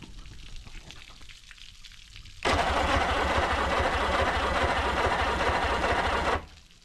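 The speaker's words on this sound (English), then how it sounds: "Go ahead and run the fuel pump, get it all mixed in." A boat fuel pump on a 300HP drag-spec outboard fitted to a Hydrostream Vector race boat runs with a loud, steady whir that starts abruptly partway in, holds constant for about four seconds, then cuts off, over low background noise.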